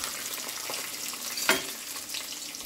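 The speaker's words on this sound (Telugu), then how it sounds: "ఇక పల్లీలు చిటచిట అన్ని టైంలో మనం ఉల్లిగడ్డ, పచ్చిమిర్చి ఇవన్నీ వేయాలి" Peanuts crackle and sizzle as they fry in a pan, a steady close hiss with scattered pops and one sharp louder crack partway through, no voices.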